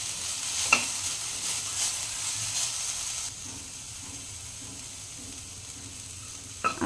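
Finely chopped fenugreek leaves sautéing in a kadhai, a soft continuous sizzle with spatula scrapes and stirring, louder at first and then settling into a quieter hiss, with a clatter near the end.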